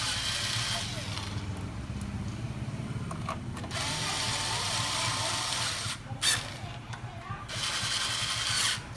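A power screwdriver whirs steadily while fastening screws on a Toshiba E720 copier during cleaning, with a continuous mechanical drone and a few sharper bursts near the end. Talk may be present underneath.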